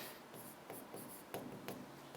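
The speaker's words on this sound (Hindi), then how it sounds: "तो यहां से एक नोट लिख लेते हैं अपन" Pen or pencil writing a handwritten note on paper during a maths lesson, heard as faint, close scratchy strokes with a few brief louder scrapes, no voices.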